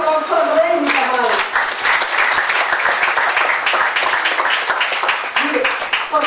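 Church congregation applauding during a Sunday service, a full, steady wash of clapping from many people, with a voice speaking over it at the start and end.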